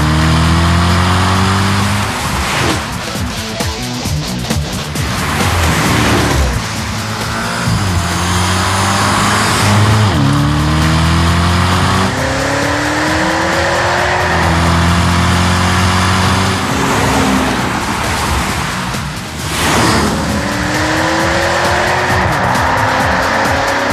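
A BMW Alpina B6 with an Akrapovic exhaust and more than 500 horsepower accelerates hard, its loud engine rising through repeated upshifts with brief dips between gears and some tire noise, close and continuous throughout.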